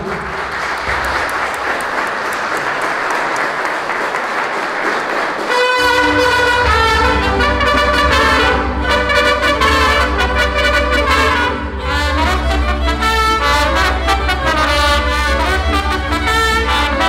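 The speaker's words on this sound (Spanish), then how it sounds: "Le damos un aplauso al señor que se hizo el señor de Chalma" Applause for the Señor de Chalma at a church festival in Hidalgo: after a stretch of crowd noise, a loud burst of steady clapping rises and carries on, with music-like tones mixed in.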